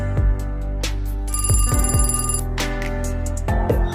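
Telephone rings in repeated short electronic bursts with brief gaps, loud and close, with no voices.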